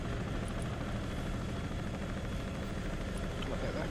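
A helicopter in the military strategy game Broken Arrow flies with a continuous droning rotor roar, steady and fairly loud, with no break in the sound.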